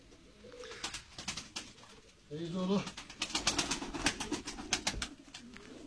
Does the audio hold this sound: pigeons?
yes